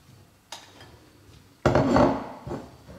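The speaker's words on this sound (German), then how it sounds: "dann verteilen wir das blanchierte Gemüse" Blanched vegetables tipped and spread onto shortcrust pastry for a vegetable quiche, giving a light knock followed by a louder clatter of pieces and utensil against the dish, then a smaller clink, with no talking.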